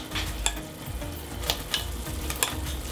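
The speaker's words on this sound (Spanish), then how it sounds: "Ahora voy a echar la carne." Beef hitting a very hot pot for spicy Korean beef soup, yukgaejang, a steady loud sizzle with sharp stirring clatters at intervals.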